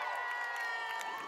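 A large crowd cheers and shouts outside Windsor Castle as Meghan and Harry wave during their royal wedding procession, a steady dense roar with high whoops and voices, close and continuous.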